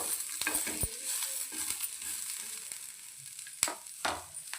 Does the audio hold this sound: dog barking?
no